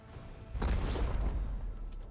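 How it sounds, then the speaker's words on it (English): A torpedo strike detonates in a space battle in the Warhammer 40k: Rogue Trader video game, a sudden loud broadband blast that settles into a sustained rumbling roar with no talking. "We'll get in a torpedo strike. Let's go ahead and detonate that."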